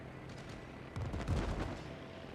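Naval gunfire in the World of Warships video game, a burst of booming shots and rumbling blasts in the middle of the clip over a steady low game ambience, with no talk.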